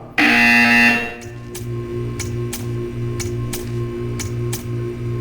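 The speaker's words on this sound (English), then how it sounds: "When you hear the buzzer, stare at the art." A loud electronic buzzer in the video game Portal 2 blares for about a second, then gives way to a steady rhythmic ticking and humming machinery with regular soft pulses.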